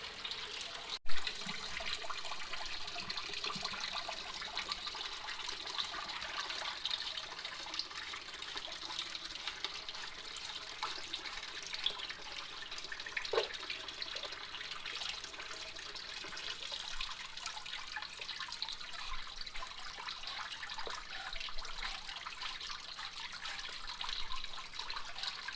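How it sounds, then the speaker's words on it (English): Water runs steadily over a gold prospecting sluice table at the Yuba River, a continuous, fairly close hiss and trickle that holds without a break throughout. "I'm letting it run a little bit, and you know, again, let the water soak into the table a little bit"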